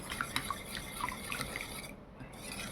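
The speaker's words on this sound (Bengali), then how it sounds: "ঢেলে দিয়ে এখন ভালো করে মিশিয়ে নিচ্ছি।" Milk is stirred into raw mango pulp in a bowl, giving soft wet sloshing and light drips up close. The sound is gentle and continuous, with no voices over it.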